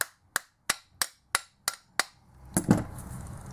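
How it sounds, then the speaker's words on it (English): Seven sharp metallic taps on a car alternator's front bracket ring out in a steady rhythm, followed by a short clattering scrape as the housing comes apart. "you give the front bracket a few taps. 1 on one side, a few of them on one side, and a few taps on the other side"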